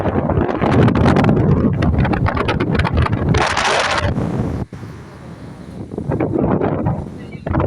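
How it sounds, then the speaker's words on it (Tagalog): Strong wind buffets the microphone on a boat at El Nido, Palawan, loud roaring gusts with a brief dip midway before rising again, a voice briefly heard under the noise. "Sobrang lakas ng hangin dito."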